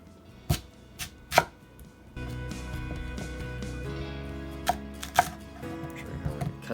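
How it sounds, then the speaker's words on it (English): Sweet potatoes are cut in half with a knife on a board: several sharp, close chopping thuds spaced apart, over a steady low hum that starts partway through. "I always love sweet potatoes, so I'm gonna chop them in half."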